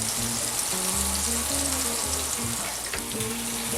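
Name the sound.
onions frying in pan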